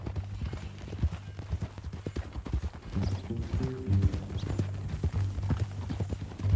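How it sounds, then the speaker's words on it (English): Horse hooves clip-clop in a steady walking rhythm in Red Dead Redemption 2, close and clear over a low rumbling ambience, with a few soft tack and movement sounds mixed in. "That new horse?"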